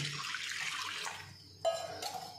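Water poured onto washed sago pearls in a bowl to soak them, a soft steady trickle and splash, close and fairly quiet, with a brief sharper splash near the end.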